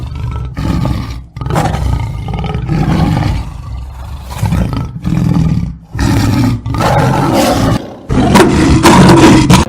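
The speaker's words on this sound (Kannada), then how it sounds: "ಮೊಲಗಳನ್ನು ನೋಡಿದ ಹಸಿದ ಹುಲಿಯು ಅವುಗಳನ್ನು ತಿನ್ನಲು ಘರ್ಜಿಸಿತು." Repeated loud tiger roars, several long growling bursts separated by short pauses, close and filling the scene with no talk.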